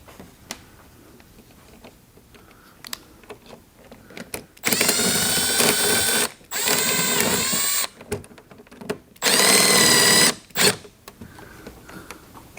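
Three sustained loud whirring bursts of a power driver or drill run screws into a new bumper on a BMW E92 M3, each lasting one to two seconds with short gaps and faint clicks of handling between them.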